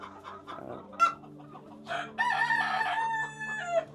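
Black chickens on a Sri Lankan poultry farm cluck in short bursts, then one bird lets out a longer drawn crow-like call, fairly close and clear against a quiet background, with no talk.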